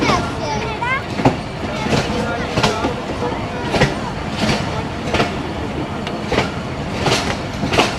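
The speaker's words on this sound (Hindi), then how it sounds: "ये कि टेक्सला कैंट के यार्ड में एंटर हो रहे हैं।" The 11UP Hazara Express rolling into the Taxila Cantt railway yard in Pakistan: steady, rhythmic clickety-clack of wheels over rail joints, heard from inside the carriage with faint voices in the background.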